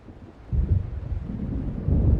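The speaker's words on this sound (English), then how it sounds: "It seems there's a storm coming" Low, rolling rumble of thunder from an approaching storm in the video game Alan Wake Remastered, swelling after a quiet start and holding as a steady distant roar with no voices.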